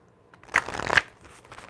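A quick riffle of playing cards being shuffled, a short crisp flurry of flicking paper lasting about half a second, close and fairly quiet.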